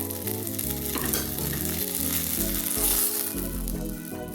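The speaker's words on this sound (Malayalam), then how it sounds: "ഞാനത് എണ്ണയിലൊന്ന് വാട്ടിയിട്ട് എടുക്കട്ടെ കേട്ടോ" Brinjal pieces sauté in oil with mustard seeds, giving a close, continuous sizzle with stirring, mixed with steady tonal background music.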